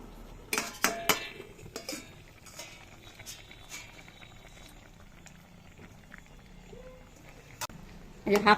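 A lid comes off a cooking pot where potatoes, vegetable stems and jackfruit seeds are boiling: a few close metallic clanks and clinks, then quiet bubbling, with someone talking over it.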